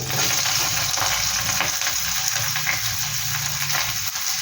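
Minced garlic, ginger and onion hit a hot pan for egg Maggi, a loud, dense, continuous sizzle that stays close and constant throughout.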